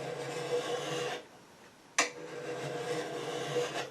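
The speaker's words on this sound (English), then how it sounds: "Simply take you a draw file and just draw it" A draw file rasps along a metal woodturning tool rest to smooth out nicks and scratches. A sustained stretch of scraping pauses briefly, a sharp click follows, and then the filing resumes, close up, with no voices.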